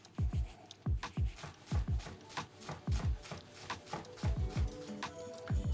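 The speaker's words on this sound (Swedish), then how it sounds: "Och nu hackar jag den rätt fint" A knife finely chops an onion on a cutting board in a home kitchen, steady rhythmic thuds, close and fairly quiet, running in bursts of quick strokes.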